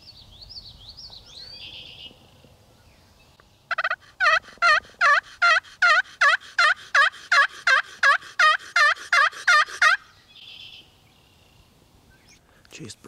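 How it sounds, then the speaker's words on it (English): Wild turkeys gobble in Wisconsin springtime woods, a rapid series of about fifteen loud, evenly spaced gobbling bursts over six seconds, standing out clearly against a quiet background with faint bird chirps before and after. "We've still got these ones to the south here, gobbling here and there."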